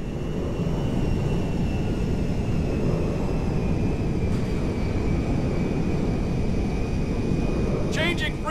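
Steady, loud broadband jet roar of a cargo jet landing in the video game Grand Theft Auto V, with a thin high engine whine held throughout and a brief chirp near the end.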